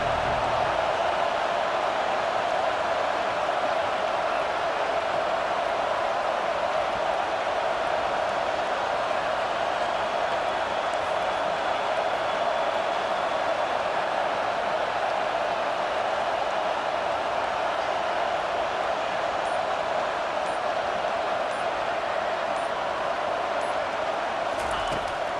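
Stadium crowd noise in the College Football 25 video game rises on a big fourth down, a steady dense roar holding at even loudness for the whole stretch without clear breaks.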